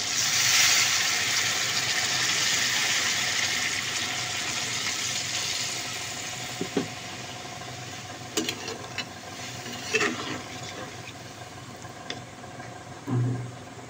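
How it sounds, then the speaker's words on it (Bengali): Water is poured into a pan of cooked, fried-down chicken gizzards and liver, making a steady rushing hiss for several seconds. It fades into a quieter stretch broken by a few faint clinks and taps. "আমি এখন পানি অ্যাড করে দিচ্ছি।"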